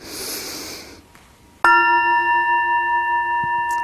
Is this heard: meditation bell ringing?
yes